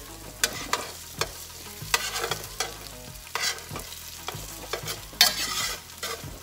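Ginger sizzling and crisping in a pot while a utensil stirs and scrapes in repeated strokes, sharp clacks punctuating a continuous frying hiss, close and without talk.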